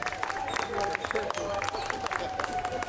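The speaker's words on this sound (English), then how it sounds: "Big applause!" Steady applause from an audience, many hands clapping continuously with crowd murmur mixed in.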